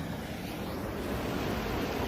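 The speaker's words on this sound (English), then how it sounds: "Nope, that's not a waterfall. That is an overflow." Water rushing steadily through an overflow channel beside a fishing spot, a continuous broadband roar with no pauses, fairly close and loud with no voices.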